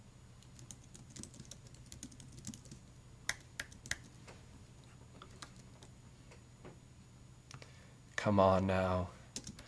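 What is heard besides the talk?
typing on a computer keyboard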